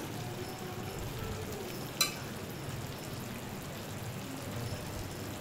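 Ginger and garlic fry in oil within a cashew and coconut gravy, cooked until the oil separates, giving a steady, soft, even sizzle with one brief sharp click partway through.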